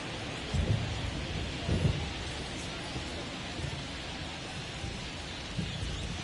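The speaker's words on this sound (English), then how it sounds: "This rain is not letting up." Steady rain with occasional low thunder rumbles in the baseball video game MLB The Show 23, a constant wash of downpour throughout with a few soft booms, no voices.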